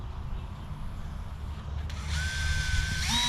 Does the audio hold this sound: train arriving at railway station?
no